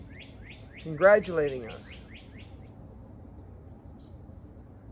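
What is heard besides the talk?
cardinal bird singing outdoors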